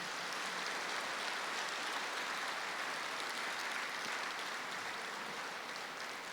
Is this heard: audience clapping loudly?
yes